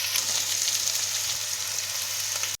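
Onions browning to light gold fry in oil in a pan with added garlic, for a Bengali jackfruit and prawn dish. A dense, hissing sizzle runs steadily with light crackles and cuts off sharply at the end, with no talk.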